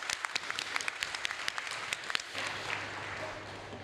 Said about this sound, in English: Just a little round of applause because it's hard to be the first.